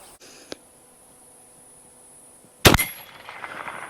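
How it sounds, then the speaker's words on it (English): A single sharp gunshot from a Lightning baby carbine fired at a steel target rings out loudly, followed by a ringing metallic decay, with a faint click earlier. "I'll shoot on steel to start with"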